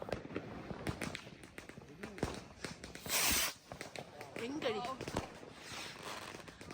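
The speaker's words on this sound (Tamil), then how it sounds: "அங்கே பார்த்திங்கன்னா பயங்கர வெடி எல்லா செலிப்ரேஷனும் சூப்பராக என்ஜாய் பண்ணியிருந்தாங்க" New Year fireworks and firecrackers crackle and pop in scattered sharp bursts at a distance, with one louder hissing whoosh midway. The bursts are fairly faint and mixed with people talking nearby.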